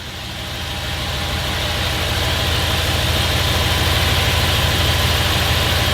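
Audi RS4 engine running inside a garage, a steady loud idle with a deep low rumble and constant vibration that swells slightly at the start and then holds even, with no voices.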